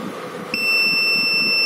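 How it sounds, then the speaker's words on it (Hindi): An electronic buzzer driven by a microcontroller timer switches on partway through, holding a steady, loud, piercing tone after a stretch of faint room noise. "the task is to turn on and turn off buzzer for to second and for to second each with the help off timer one"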